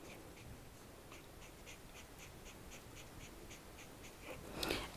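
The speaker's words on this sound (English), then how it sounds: "shade in there with your pencil" Pencil shading on paper while drawing a cartoon hen and chick, a faint rhythmic scratching of repeated strokes under steady background hiss, ending in a brief louder rustle.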